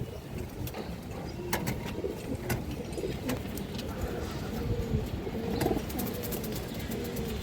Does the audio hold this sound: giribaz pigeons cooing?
yes